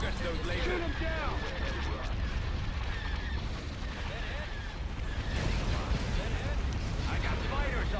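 Rapid volleys of starship laser cannon fire crackle through a Star Wars space battle in Thrawn's Revenge, a dense, continuous barrage of zaps and blasts with radio chatter from voices talking over the fight.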